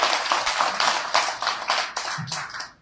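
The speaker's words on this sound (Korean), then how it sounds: "큰 박수로 맞이해 주시기 바랍니다" A small crowd claps in quick, fairly steady bursts to welcome the former Gunpo mayor at a policy development meeting. The applause is brief and moderately loud, with no talk over it.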